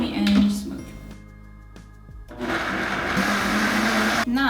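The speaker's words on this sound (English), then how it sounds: "So we're gonna blend this right now until very creamy and smooth." A blender purees cashew-based vegan cheese with tapioca flour into a creamy sauce; a brief opening whir dips to a quieter hum, then the motor roars back up and runs loud and steady to the end.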